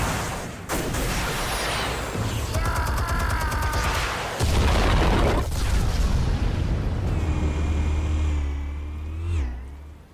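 Explosives detonating in Batman: The Telltale Series, with a sudden blast followed later by a second heavy burst and a long low rumble that fades away, mixed with mechanical whirring.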